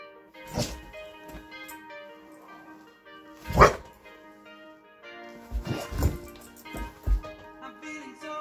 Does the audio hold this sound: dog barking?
yes